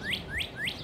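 A small bird in Oklahoma gives three rising, whistled chirps in a quick, even rhythm, clear and fairly close against quiet background hiss.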